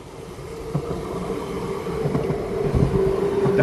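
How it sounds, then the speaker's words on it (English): A Deutsche Bahn train rumbling past on a snowy winter late afternoon in Switzerland, a steady low rolling roar that gradually swells louder, with a faint tonal whine over the wheels. "Oh, look, is that German train, Deutsche Bahn?"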